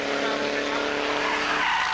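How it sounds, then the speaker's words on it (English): Lotus race cars, including a road-going Lotus Elan, at a 1988 750 Motor Club Lotus Challenge circuit race, with engines roaring steadily close by and tyres squealing throughout. "Dave racing his road car there."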